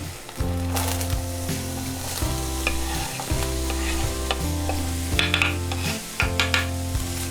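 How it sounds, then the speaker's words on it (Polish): Chopped onion sizzles steadily in a hot pan, a constant crackling hiss with occasional stirring scrapes, heard under background music. "Gdy cebulka się smaży"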